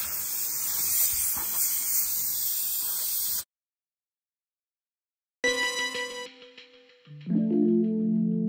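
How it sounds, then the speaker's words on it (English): Garment steamer hissing steadily against a trench coat collar for a few seconds, then silence, followed by brief electronic tones and a harmonic buzz as the sound ends. "so this steaming process is not to dry it off, it's just to steam it and get rid of any bacteria"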